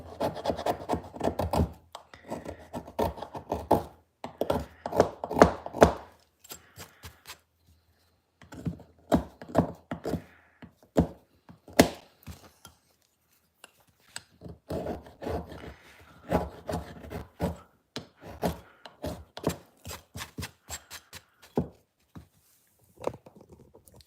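A knife scrapes and shaves fatwood into thin sticks in repeated quick bursts of rasping strokes, close and crisp, separated by short pauses.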